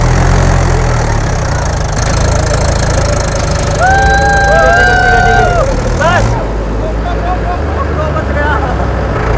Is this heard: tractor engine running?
yes